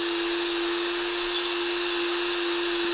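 A rotary tool spins a polishing bit against Victorinox tweezers to remove a heat stain, a steady high-pitched whine with a constant tonal hum, close and continuous without talk.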